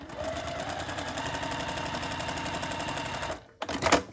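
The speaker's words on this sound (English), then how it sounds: "You hold your piece in place and then sew from corner to corner." Sewing machine stitching quilt squares corner to corner, a steady close motor whir with rapid regular needle clatter running for over three seconds, then stopping before a short burst of handling noise.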